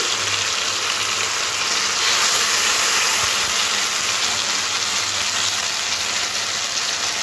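Steady, dense sizzle of green chili and ginger paste hitting a hot pan with tomato, a continuous frying hiss at close range with no talking.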